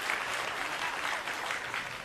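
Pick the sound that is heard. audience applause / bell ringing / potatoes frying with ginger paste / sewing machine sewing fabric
audience applause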